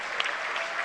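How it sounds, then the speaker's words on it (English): Crowd at a rugby league match, York City Knights against Widnes Vikings, clapping in a steady, dense wash of applause that fills the whole brief moment. "Chris Clarkson, again well appreciated by the crowd"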